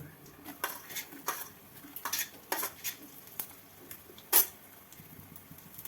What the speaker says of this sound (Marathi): हिरवी मिरची, हे सर्व व्यवस्थित तेलामध्ये आपल्याला परतून घेऊ